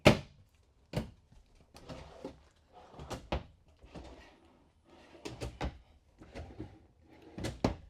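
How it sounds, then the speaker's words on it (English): Several sharp wooden knocks and sliding rumbles as drawers in a 2024 Flagstaff Classic 826MBR travel trailer are pulled open and pushed shut, one after another at an uneven pace, close by with no talking. "So you got all of these drawers down here."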